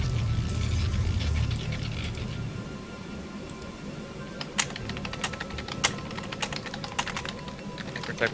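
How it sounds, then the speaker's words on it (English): Rapid keyboard typing clatters close by during an online StarCraft team league match broadcast, bursts of sharp key clicks with a low background hum and faint murmur. "We're typing the same thing."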